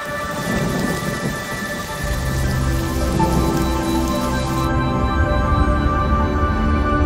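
Heavy rain pours down in Zambia during the wet season, a dense, steady hiss of falling water close by, with a deep rumble of thunder rolling underneath.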